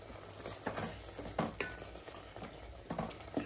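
Hyderabadi-style bagare tamatar tomato curry with chopped coriander leaves being stirred in a pan: a spoon scrapes through the thick mixture in several separate strokes over a soft, steady sizzle.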